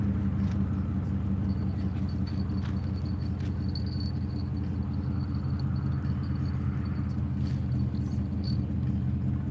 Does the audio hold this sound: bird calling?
no